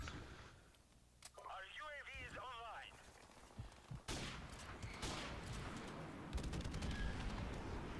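Call of Duty: Modern Warfare Remastered online match with bursts of gunfire and crackling shots filling the second half, after a warbling electronic sound at the start, all fairly faint.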